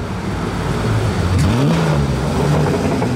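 A Porsche Singer engine revs through a downshift, loud and close, with a continuous roar that rises and blips in pitch over steady road noise.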